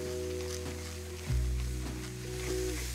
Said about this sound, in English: keep stirring this around until the mushrooms are cooked down